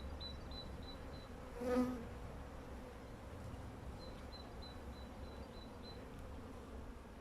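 A steady, low drone of many honeybees buzzing inside a hive, with a brief louder swell as one passes close.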